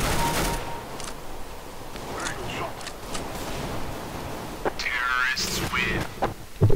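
Rapid bursts of M4 rifle fire in CS:GO crackle in short clustered volleys over a noisy game background, with a voice talking across the shooting.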